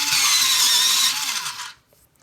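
Colouring pencil being sharpened, a bright grinding scrape that runs steadily for under two seconds and then stops, close and alone.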